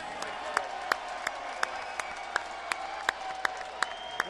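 A large boxing arena crowd applauds for Mike Tyson's entrance, a continuous wash of clapping with sharp camera-flash-like clicks popping out at a regular rhythm.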